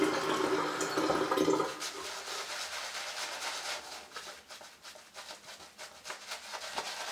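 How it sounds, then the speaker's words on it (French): Tap water runs steadily into a sink while preparing to shave with a Razorock Black Hawk razor, a strong rushing stream that eases to a softer, uneven trickle partway through. "On va mettre un peu d'eau."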